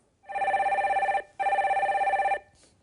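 A telephone rings for the next caller on a Korean call-in radio show: two loud, clear electronic trilling rings separated by a short pause, with no talk over them.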